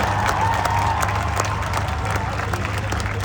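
Audience applause in a large hall during a patriotic stage speech: sustained, even clapping from many hands that continues for several seconds, with a low steady hum beneath.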